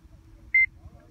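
An ARVA Neo avalanche transceiver gives a single short, clear electronic beep tone within a low, rumbling background.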